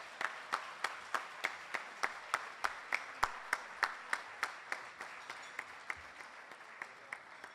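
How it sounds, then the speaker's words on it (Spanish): Steady rhythmic clapping from an audience at an award ceremony, a regular beat of applause that gradually softens toward the end, with no talking. "El aplauso para él."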